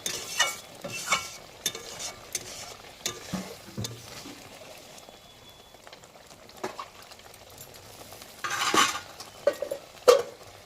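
Prawn malai curry with green chillies simmers in a pan, a faint bubbling sizzle with occasional clinks and scrapes of a spoon against the pan, close by and fairly quiet, without talking.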